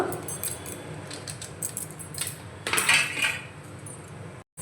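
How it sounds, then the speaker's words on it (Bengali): A spoon mixes cake batter with orange-flavoured fruit salt in a bowl, making quick, close metallic clinks and scrapes that cluster into a busier burst midway. "ভালো করে মিশিয়ে নেব।"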